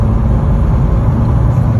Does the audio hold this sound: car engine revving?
yes